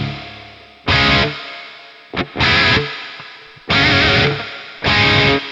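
Electric guitar through a lush 80s-style reverb preset in Guitar Pro 5, playing four or five loud distorted bursts, each separated by brief gaps where a soft tail lingers.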